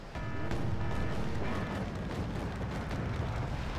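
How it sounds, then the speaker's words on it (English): Artillery barrage in the video game Wargame Red Dragon, a dense continuous rumble of distant shell impacts and low booms rolling together without pause, loud and sustained throughout. "Chasseurs are getting plowed over by all of the artillery that's coming down on them."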